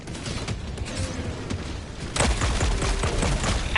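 Mortar fire rumbles in the Helldivers video game as a dense, noisy barrage of blasts and crackling impacts, growing louder and heavier midway through.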